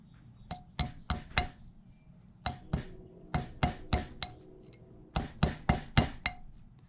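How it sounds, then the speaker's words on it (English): A small hammer taps on a corroded Civil War revolver in quick bursts of two to four sharp, ringing metallic strikes, close and clear, with short pauses between groups and no speech. "Where's my little hammer? There it is."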